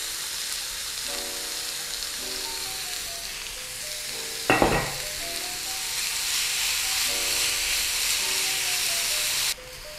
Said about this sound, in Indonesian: kita akan masukin daging cincangnya